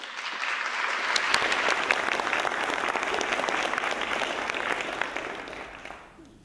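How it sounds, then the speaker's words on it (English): Sustained audience applause at a compassion science conference, a dense even wash of clapping from a large crowd that swells after a quiet start and tapers off near the end, with no talk over it. "please give them a round of applause"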